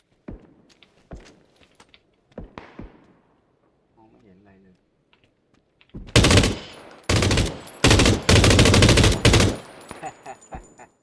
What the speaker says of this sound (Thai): มันยิงมั่วเลยพี่